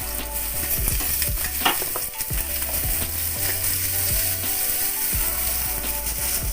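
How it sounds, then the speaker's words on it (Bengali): Pumpkin pieces stir-fry in a pan with taro in oil. A continuous near sizzle carries repeated rhythmic scraping stirs at about one stroke per second. "এবার আমি ওর মধ্যে কুমড়োটা দিয়ে দিলাম"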